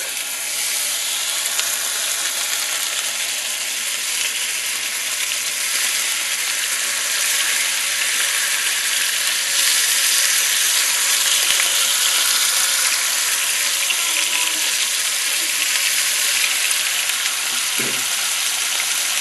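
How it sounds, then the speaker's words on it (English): Bacon fries in a pan with a steady, loud, hissing sizzle that stays unbroken for the whole stretch, punctuated near the end by a brief clink. "I still have 3 more pieces of bacon to cook"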